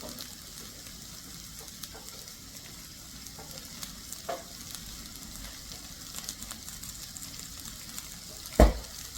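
Avocado oil and butter heating in a pan, giving a low steady sizzle with scattered small clicks and one sharp knock near the end, no talking.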